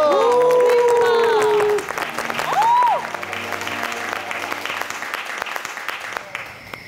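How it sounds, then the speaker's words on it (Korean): A television studio audience applauds a singer's stage performance on a Korean music show, steady clapping running through the whole stretch, with a brief sung or exclaimed voice over it early on. "박수 주세요."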